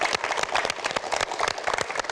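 An audience at a religious talk breaks into brisk, dense clapping, a steady patter of many hands filling the room without pause.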